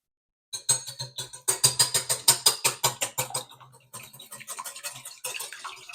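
An egg with a pinch of salt whisked in a bowl, heard as a fast, rhythmic run of close, sharp clicking strokes that ease into lighter, quicker beats toward the end, with no talk.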